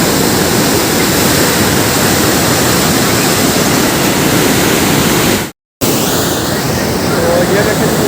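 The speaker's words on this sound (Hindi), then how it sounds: "तो ये देखिए जी बैक साइड में पानी का शोर और स्पीड चेक करें कितनी स्पीड है पानी की" Floodwater on the Chenab River rushes through the Head Qadirabad barrage in a loud, dense, unbroken roar, cut off briefly by a short dropout before the torrent resumes.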